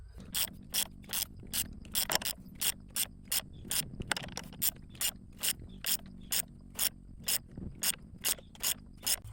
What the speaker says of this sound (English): we're just going to start going clockwise to push this pulley on